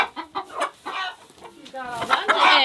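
Several chickens cluck and squawk close by in short bursts while being moved back into the yard, with a person speaking intermittently among them.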